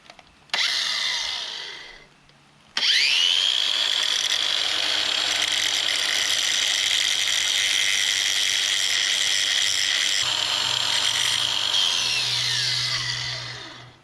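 A power tool grinds and polishes the end of a go-kart wheel axle, a loud steady high whine that stops briefly, then runs continuously for about eleven seconds before winding down.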